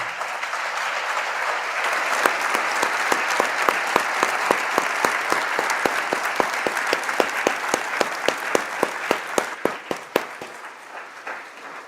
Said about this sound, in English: let's all acknowledge them for their services by giving them a round of applause